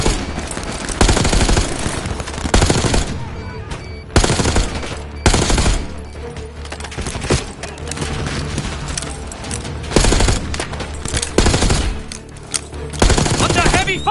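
Heavy gunfire rips through a Call of Duty Black Ops 6 campaign battle: loud, repeated machine-gun bursts and rapid volleys with occasional booms, arriving in clustered waves of near, intense shooting.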